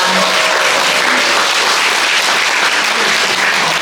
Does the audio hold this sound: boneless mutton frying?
no